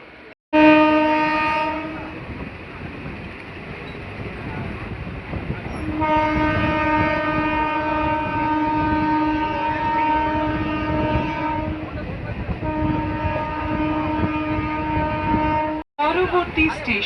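A local train running between Budge Budge and Naihati, near Jagaddal station, rumbles steadily while its horn sounds in long, loud, sustained blasts, first briefly and then for several seconds at a time over the continuous rolling noise.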